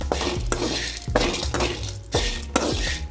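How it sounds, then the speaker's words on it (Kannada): Cloves roasting in a little oil in a pan for a Vijayapura-style masala, stirred with a utensil scraping and clinking against the metal about four or five times at a steady rhythm over a soft sizzle, close and with no voices. "ಹಂಗೆ ಮ್ಯಾಲೆ ಸ್ವಲ್ಪ ಎಣ್ಣೆ ಹಾಕಿ ಚಂದಾಗಿ ಹುರ್ಕೋತೀವಿ"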